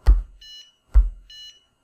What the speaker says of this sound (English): it will beep